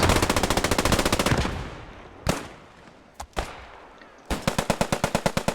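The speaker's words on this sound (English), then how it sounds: "Attila firing back, taking down Azrael" Machine gun fire in the Post Scriptum game: rapid, loud automatic bursts at the start, a few isolated heavy shots in the middle, then another sustained burst of evenly spaced rounds to the end.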